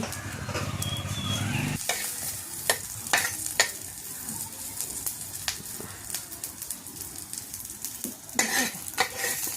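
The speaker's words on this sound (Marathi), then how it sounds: "ते ओलं खोबऱ्याचे काप केले पातळ, ते भाजून घेते." Thin slices of fresh coconut roast in a hot pan, a continuous sizzle broken by repeated scraping and knocking of a spatula against the metal.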